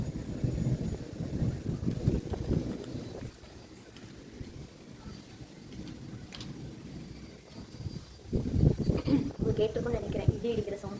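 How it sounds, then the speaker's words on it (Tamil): Gusty wind rumbles and roars in waves, easing in the middle and surging louder again near the end. "பாருங்க, காற்றும் அடிக்குது."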